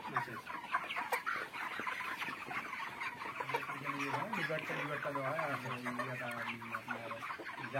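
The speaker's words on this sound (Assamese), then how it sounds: "ইয়াত চাওক বহুত ডাঙৰ ডাঙৰ মুৰ্গী আছে।" Broiler chickens cluck and murmur continuously in a large poultry farm house holding about 2,100 birds, a dense close flock chorus with occasional sharper calls.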